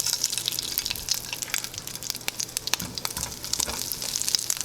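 Vegan sausages fry in a hot pan with a loud, continuous crackling sizzle. Dense popping spatter runs through it close up, and no one speaks.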